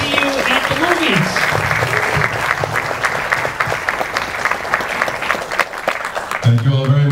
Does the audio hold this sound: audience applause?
yes